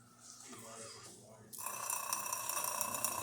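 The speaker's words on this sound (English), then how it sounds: "Let's try the hot water." A Jura coffee machine, just back from a full service, sits quietly for a moment and then starts dispensing hot water with a sudden, steady hissing rush that continues to the end.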